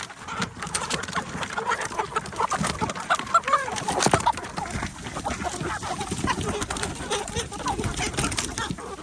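Meat chickens cluck and murmur busily while eating food scraps, with a steady chorus of close bird chatter and occasional wing flutters.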